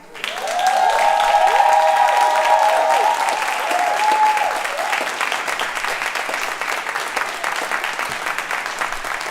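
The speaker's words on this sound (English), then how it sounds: "Y'all keep clapping for Kai Smith." Sustained applause from an open mic audience at The Spirit Gates, clapping for a poet after the final line, loud and steady throughout with a brief murmur of voices or whoops early on.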